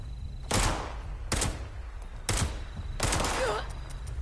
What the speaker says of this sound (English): Granted, I'm using a pipe pistol now